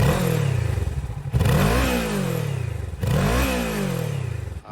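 A 2017 Kawasaki Ninja 650 KRT twin-cylinder motorcycle engine revs hard twice, each blip climbing sharply then falling back to a rough idle, loud and close with no talking.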